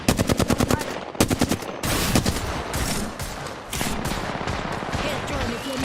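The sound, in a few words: gunfire in a video game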